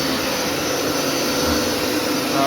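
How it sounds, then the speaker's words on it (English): A Hoover Power Scrub XL carpet cleaner runs close by on carpet with a loud, steady motor whine and suction roar that holds constant throughout. "That is a Hoover Power Scrub Extra Large."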